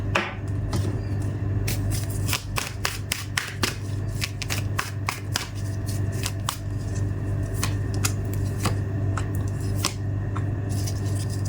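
Tarot cards are shuffled and laid out for a reading: a close, continuous riffling and flicking of cards with many sharp snaps and slaps, busy and steady throughout, with no talking.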